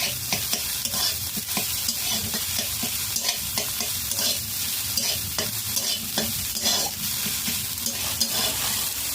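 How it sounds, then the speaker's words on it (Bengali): Beaten egg fries in hot oil in a pan as it is broken up into small scrambled bits, a continuous sizzle broken by repeated scraping stirs of a spatula, close and busy throughout. "ডিমটাকে আমি এইভাবে কুচো কুচো করে ভেজে নিচ্ছি।"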